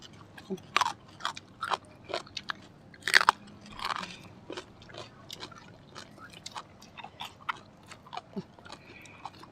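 Crisp eggplant being chewed and bitten at a Thai meal of grilled pork neck with sticky rice, giving repeated crunchy bites and chewing close to the mic at an uneven rhythm, with brief faint voices between.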